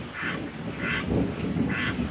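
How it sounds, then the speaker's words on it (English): Low thunder rumbles in the distance over steady rain in a summer storm by a backyard duck pond, with regular bursts of duck quacking on top. "More thunder."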